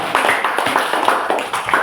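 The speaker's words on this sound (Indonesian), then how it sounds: "Ya, tepuk tangan kelompok" A small group of students claps hands in a classroom, fairly close and loud, with distinct individual claps in an uneven rhythm over a brief burst.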